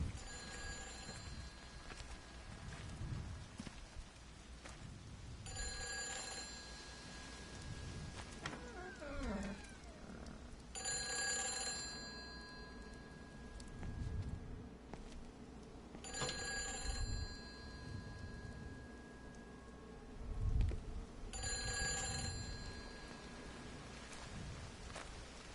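A telephone rings in the video game Everybody's Gone to the Rapture, its repeated bell bursts spaced several seconds apart over a faint ambient background, with no talking.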